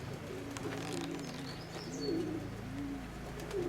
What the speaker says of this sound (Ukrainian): Ці голуби ще зачинені,